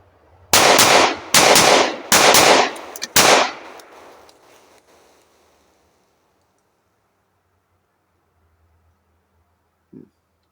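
A Smith & Wesson M&P .45 ACP pistol fires four loud, sharp shots outdoors in quick succession, each followed by a short echoing tail. Near-silence follows, broken by one faint knock near the end.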